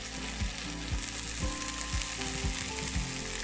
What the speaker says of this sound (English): we just have to wait for our burgers to finish cooking